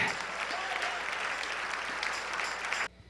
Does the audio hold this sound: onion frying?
no